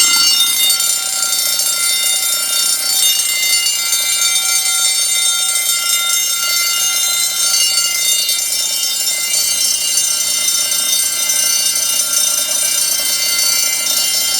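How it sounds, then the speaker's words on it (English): A loud 10-inch fire alarm bell rings nonstop, steady and unbroken, right up close. "I want to see what these bells sound like on filter power."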